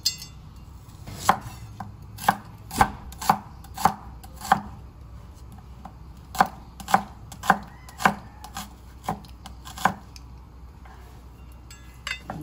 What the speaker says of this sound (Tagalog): ganyan na mag-slice ng ating sibuyas